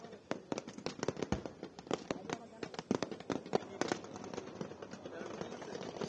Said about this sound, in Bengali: বেয়নেট চার্জ করার আগে ট্রেঞ্চ ক্লিয়ার করতে সৈন্যরা গ্রেনেড নিক্ষেপ করছে